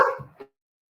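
A dog gives a short bark followed by a quick softer yip, close and brief, then silence.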